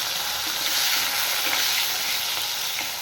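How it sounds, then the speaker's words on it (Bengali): Thin eggplant slices with salt and turmeric frying in hot oil give a dense, steady hiss and crackle that stays close and even throughout. "এবার কেটে রাখা বেগুনগুলো ভেজে নেব বেগুন একদম পাতলা পাতলা করে কেটেছি"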